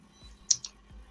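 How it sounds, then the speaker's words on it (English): A few quick clicks on a computer keyboard during a livestream, two sharp taps close together amid a quiet background hum. "What are you typing?"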